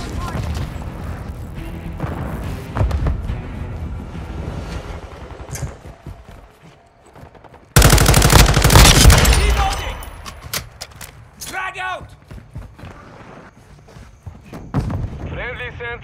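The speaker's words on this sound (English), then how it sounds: "I'm shooting!" Gunfire from a Call of Duty: Modern Warfare II team deathmatch, with bursts of shots, a loud dense volley midway and scattered shooting after, set among game effects and voices talking.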